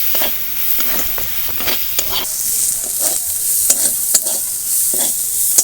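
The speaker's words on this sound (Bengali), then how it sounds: "এবার চিংড়ি পেঁয়াজ লঙ্কা সব একসঙ্গেই ভেজে নেব" Prawns, chopped onion and green chilli fry together in a pan, a loud steady sizzle punctuated by repeated spatula scrapes and stirring clacks.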